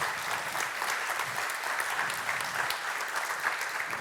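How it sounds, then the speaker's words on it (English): A conference audience at Craft Conference applauds a speaker after a leadership talk, with dense, sustained clapping from a large room that holds a steady level throughout. "Let's give Irina another big round of applause,"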